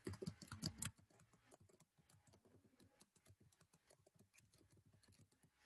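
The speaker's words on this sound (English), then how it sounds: "So let me type something." Typing on a computer keyboard, with rapid, close, quiet key clicks in an uneven rhythm that continue throughout, led by a brief louder burst of clatter at the start.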